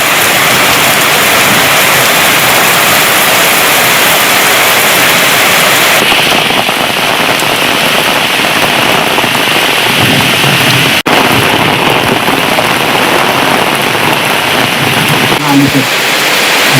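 Heavy summer rain pours down in a loud, dense, unbroken roar of drops on surfaces, steady for the whole stretch with a few faint low thuds beneath.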